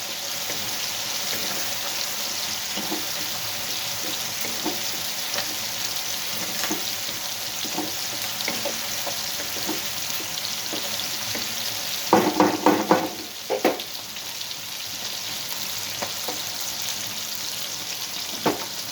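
Bitter gourd pieces fry in a pan with a steady loud sizzle, then a burst of clattering stirring strokes near the middle before the sizzle settles again; no talking.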